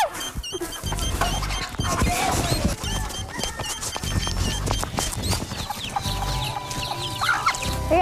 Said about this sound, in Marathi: आवाज देते कोंबडी एक